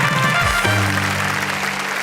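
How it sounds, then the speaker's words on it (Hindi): Audience applause for the musicians on an Urdu poetry show, steady clapping under sustained music with a low held note, continuous and moderately loud. "लखन, संदेश और आतिश के लिए एक बार जोरदार तालियां"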